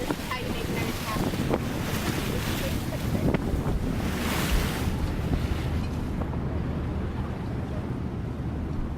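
Wind and ocean waves at sea aboard a trawling boat roar in a steady, loud, unbroken rush with heavy wind buffeting, and no voices.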